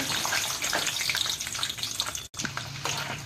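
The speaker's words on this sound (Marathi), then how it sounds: "तेल टाकलं की त्यामध्ये शेंगदाणे तळून घ्यायचे" Peanuts fry in hot oil in a pan for kanda poha, a steady loud sizzle and crackle up close that runs on without pause apart from one brief cut.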